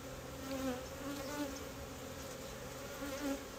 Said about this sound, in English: I'm going to knock these bees off and just clean all this wax off